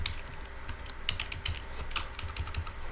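Rapid, uneven clicking of computer keyboard keys while entering data into a spreadsheet, close up and fairly quiet, with brief pauses between bursts.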